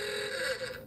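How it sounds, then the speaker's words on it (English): An alarm goes off, giving a brief, steady electronic tone that rings moderately loud and then cuts off. "That's my alarm."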